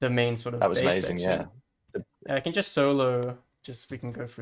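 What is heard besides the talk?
No everyday noise stands out behind the speech.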